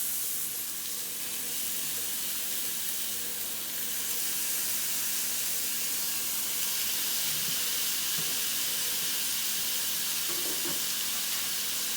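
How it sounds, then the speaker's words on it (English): Hamburger patties frying in a skillet, a steady, loud, dense sizzle that continues throughout, with a few faint taps from the pan. "we're just going to drop them in the skillet"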